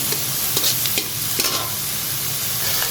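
Green chillies frying in hot oil with spring onion greens, a steady close sizzle broken by scraping stirring strokes in the pan, quiet and continuous, with no voices.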